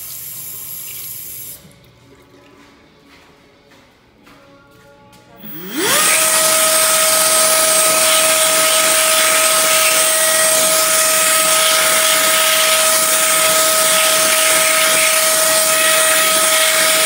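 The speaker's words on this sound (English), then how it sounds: "This is one of the most energy efficient hand dryers, only 200 watts of power." A Bobrick InstaDry low-power hand dryer in a hotel restroom is quiet at first, then switches on with a rising whine and settles into a loud, steady rushing blast of air with a constant high tone.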